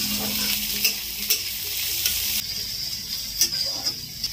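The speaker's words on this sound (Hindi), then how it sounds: "तेल गर्म हो गया है, अब इसमें हम लोग डालेंगे थोड़ा सा जीरा, मिर्ची" Cumin and chilies crackle in hot oil in a home kitchen pan, a steady sizzle with a few sharper pops and stirring scrapes, close and alone.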